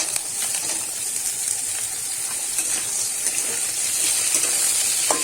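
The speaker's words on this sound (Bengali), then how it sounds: "একটু নেড়ে চেড়ে কিন্তু আমি ভাজা ভাজা করে নেবো" Potato pieces and jackfruit seeds fry in hot oil in a pan, giving a steady close sizzle with occasional scraping stirs.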